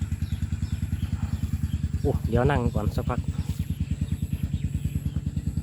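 A walking tractor's engine idles in a steady low, fast-pulsing chug, close by, while someone speaks briefly over it.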